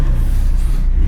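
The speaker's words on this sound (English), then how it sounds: "Just rev it up" Sports car engine, one of a McLaren 750S, Ferrari 296 GTB, Porsche 911 Turbo or Lamborghini Huracán Performante at a drag race, holds a loud, steady low rumble for about a second.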